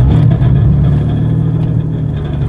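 The engine of a Nissan 350Z prepared for drifting drones loud and close as the drive starts, holding a steady, throaty tone.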